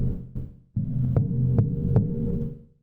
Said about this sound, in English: This one does have kind of a loud boom arm noise if the boom arm is moving.